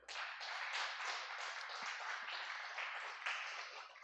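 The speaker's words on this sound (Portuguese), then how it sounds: "Vamos dar para o Senhor Jesus uma salva de palmas bem bonita." A church congregation claps together in sustained, dense applause that holds steady for several seconds without a break.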